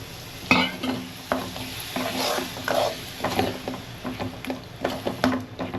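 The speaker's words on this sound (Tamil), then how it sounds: "எல்லாம் சேர்த்து பச்சை வர போகிற அளவுக்கு வதக்கிட்டு அதுக்கப்புறம் சிக்கனை சேர்த்துக்கலாம்" Masala with curd and tamarind water being sautéed for chicken curry, a soft sizzle under repeated stirring with scattered spoon scrapes against the pan, close and steady, no voices.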